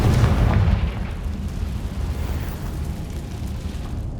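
A Confringo explosion spell in Hogwarts Legacy bursts with a loud, deep boom at the start, then fades into a rumbling, hissing tail that lingers under steady game ambience.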